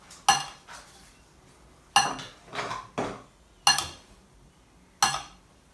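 A spoon stirs a pepper, salt and chili powder mix in a dish for eggless hash browns, giving sharp clinks and short scrapes that repeat every second or so, with no talking.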